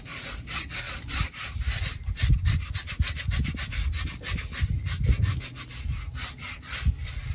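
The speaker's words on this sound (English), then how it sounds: "And you can scrape the whole, or you can scrape to wherever you're gonna cut." A knife scraping hair from wet wild hog skin in rapid, rhythmic rasping strokes, close and continuous, with a coarse sawing texture and no speech.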